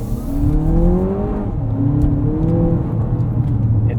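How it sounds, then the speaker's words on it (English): A 2024 Lexus TX 500h F Sport hybrid engine in Sport mode, with piped-in active engine sound, revs and climbs through rising tones, dips, then pulls up again, steady and fairly loud from inside the cabin. "A little bit of active sound control there too, piping in engine sound."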